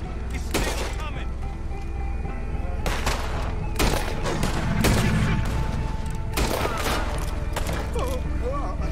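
Rapid gunfire blasts at a big alligator in Red Dead Redemption II, loud repeated shots in bursts over tense shouting voices.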